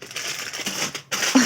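A dry block of Maggi instant noodles snaps and crunches as it is broken by hand in a kitchen. The crackling is close and continuous, with a short pause before a final crunch.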